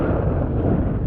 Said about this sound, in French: entendez-moi ce vent là.